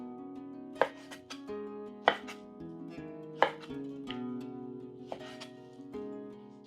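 A knife chops beef into bite-size pieces on a board, five sharp, evenly spaced knocks over a steady low musical background.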